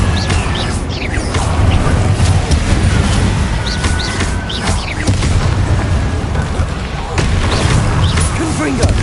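Confringo and Bombarda spell blasts in Hogwarts Legacy, a steady rumble of booming impacts and crackling bursts throughout combat, with a voice calling out spells under the noise.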